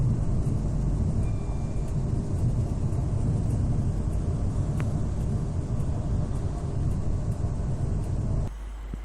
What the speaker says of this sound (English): the next train onward to our destination is just coming in behind me